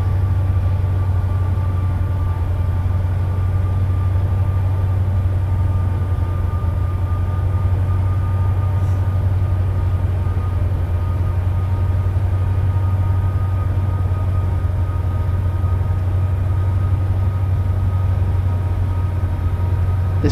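A freight train from Train Simulator 2017 rumbles continuously as it picks up speed, a loud steady low engine drone with a sustained hum and no talking.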